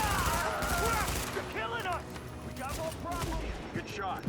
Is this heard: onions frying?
no